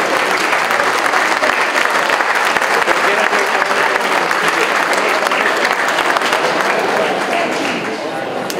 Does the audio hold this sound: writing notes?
no